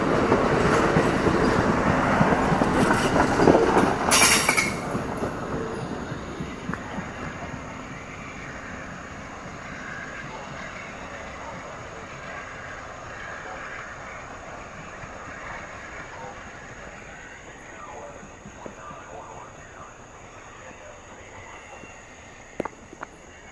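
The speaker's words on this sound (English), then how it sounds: "Southbound crescent leaving the Lynchburg Kemper Street station." The southbound Amtrak Crescent passenger train pulls out of the Lynchburg Kemper Street station in Virginia, a loud rumble with a brief hiss early on, then steady rolling wheel noise fading, with faint clicks near the end.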